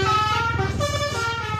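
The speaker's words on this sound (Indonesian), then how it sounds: "masih banyak bus pariwisata yang melintas di Kota Depok selalu membunyikan klakson teloletnya" A tour bus in Depok sounds its telolet horn, a loud, close, melodic string of shifting tones over the low rumble of the vehicle's engine.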